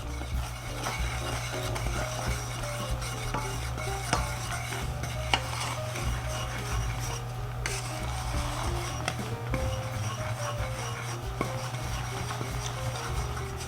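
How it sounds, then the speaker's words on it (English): Baking soda being stirred into hot gingerbread mixture just off the heat, with a steady run of light scraping and tapping of a utensil in a pot under a low background hum. "And we've got to add our baking soda. And stir that in."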